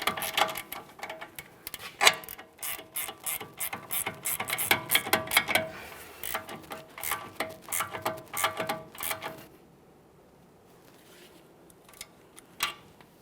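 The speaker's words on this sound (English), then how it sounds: "To continue tightening this, we'll be using our 5mm Allen head socket and our 18mm ratcheting wrench." An 18mm ratcheting wrench tightening a front sway bar link nut on a GMC Acadia during a strut replacement, with quick bursts of close clicking ratchet strokes that pause and then return briefly.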